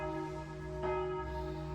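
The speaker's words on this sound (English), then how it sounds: "I've been woken up by church bells." Church bells ring in the morning, a sustained tonal peal with a fresh strike near the middle, fairly faint and distant, heard from indoors at a capsule hotel.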